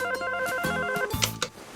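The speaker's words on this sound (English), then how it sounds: "Mr. Archie Andrews on the phone for you, Miss Lodge." A cartoon telephone rings with bright, repeating electronic tones in quick bursts over about two seconds, clear and close, without speech.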